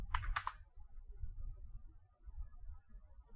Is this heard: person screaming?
no